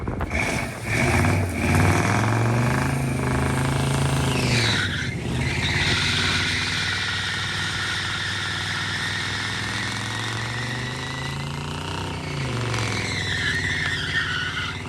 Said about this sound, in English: I missed Danny's first burnout, but here's Danny doing another one.